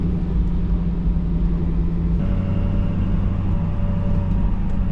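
A salt sander truck fitted with a new muffler idles steadily nearby, a continuous low engine drone whose tone shifts slightly partway through, with no talk.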